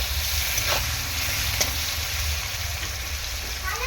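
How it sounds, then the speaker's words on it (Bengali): Chopped onion frying and being stirred in oil in a pan over a medium-to-high gas flame, a steady close sizzle with occasional soft scrapes of the spoon and no speech. "দেখো পেঁয়াজ কুচানোটা দিয়ে দিলাম, দিয়ে সুন্দর করে নাড়াচাড়া করে নেব।"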